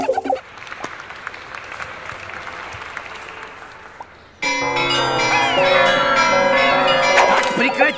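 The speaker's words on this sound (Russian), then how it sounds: "Сыграю вам на карильоне." Carillon bells ring out from a cathedral tower in a children's cartoon, a loud run of bright, ringing bell tones that starts after about four seconds of crowd-like applause and sustains to the end.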